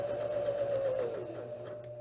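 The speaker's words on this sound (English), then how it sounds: "and then I'm going to start to stitch." A Janome Sewist 709 sewing machine runs a straight stitch, giving a close, continuous mechanical whir with a steady tone that dips slightly in pitch toward the end.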